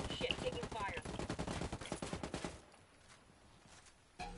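Rapid automatic gunfire in the Ghost War video game rattles in a dense fast burst for over two seconds, then drops away to quieter background before a short sharp burst at the end.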